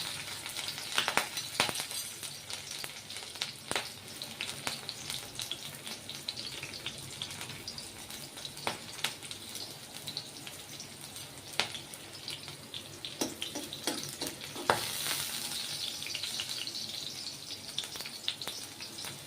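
A faint, steady hiss of green chili sizzling in hot oil in a tempering, dotted with scattered sharp crackles and pops.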